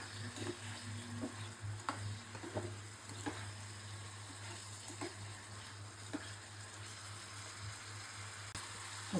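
Stinging catfish frying lightly in a pan, a soft continuous sizzle with scattered stirring knocks over a steady low hum, fairly quiet, no one speaking.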